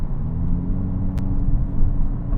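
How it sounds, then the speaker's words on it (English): A 2024 Hyundai Elantra N Face-lift rolls over a bumpy road, giving a steady low cabin rumble with a single sharp knock partway through and no talk. "even when you're going over speedy bumps or a bumpy road right here"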